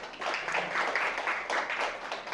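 An audience at a digital healthcare service commercialization results briefing applauds a board director stepping up to speak, with steady, dense clapping filling the room throughout.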